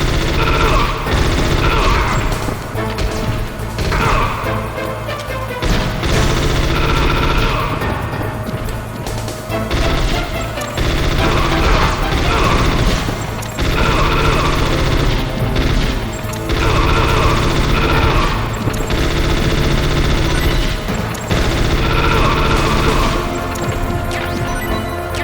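Rifle gunfire in the Metal Gear Solid video game, with loud repeated bursts of shots and crashing impacts that keep coming through the whole stretch, no voices.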